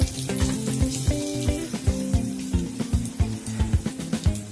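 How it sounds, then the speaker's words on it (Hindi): Whole spices (bay leaf, cardamom, cloves, cinnamon) frying in hot mustard oil for coriander chicken, a loud close sizzle with a strong pulsing, rhythmic pattern running throughout, no talk. "ये देखिए हमारा खड़ा मसाला हल्का सा फ्राई हो गया है"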